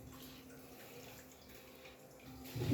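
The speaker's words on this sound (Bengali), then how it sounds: "গরম পানিতে চুবাই দিচ্ছি যাতে ময়লা তাড়াতাড়ি পরিষ্কার হয়।" A dirty bedsheet soaking in hot water, giving a faint, steady watery hiss and gentle sloshing close by, with a louder splash near the end.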